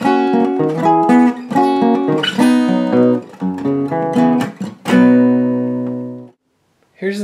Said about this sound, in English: Here's the intro riff played slowly.